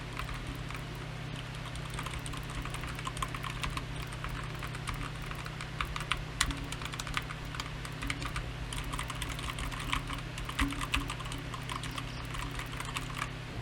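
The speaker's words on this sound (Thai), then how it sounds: "ไมค์ผมมันก็อยู่ใกล้กับคีย์บอร์ดเหมือนกันนะเวลาพิมพ์จะเป็นประมาณเนี้ย" Steady, rapid typing on a Tsunami MK-100 gaming keyboard close to the microphone, a dense run of light clicks and clacks continuing throughout with a low hum underneath and no talking.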